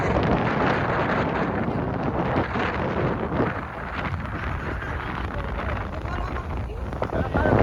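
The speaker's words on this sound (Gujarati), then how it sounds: "આયા પવન બહુ છે" Heavy coastal wind by the sea buffets the microphone in a constant broadband roar, loud and unbroken throughout.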